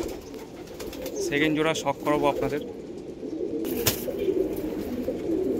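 Andhra pigeons coo repeatedly close by, their soft throaty calls overlapping with someone speaking, followed by a brief sharp flutter or knock.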